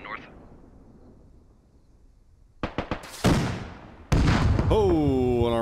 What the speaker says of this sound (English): Smoke mortars on the tower.